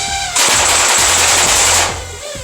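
A toy Uzi rapid-fire blaster loaded with suction darts lets off a loud, continuous burst of fast mechanical firing that lasts about one and a half seconds, then cuts out.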